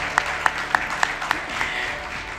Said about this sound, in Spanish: con este cálido aplauso les despedimos.